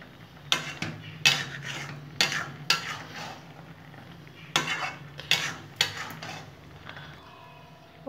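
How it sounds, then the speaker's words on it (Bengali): A spoon scrapes and stirs sweet-spicy jujube pickle in a pan, about nine loud, rough strokes in an uneven rhythm, close up with no talking. "নাড়াচাড়া করে নেব।"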